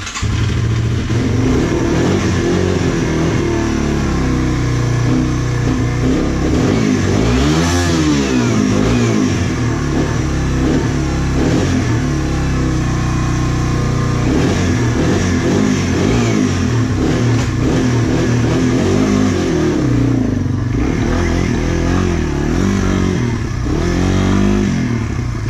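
Yamaha TW200 motorcycle on stock tires ploughing through deep snow, its engine loud and close throughout with rising and falling revs and clattering, continuous for the whole stretch.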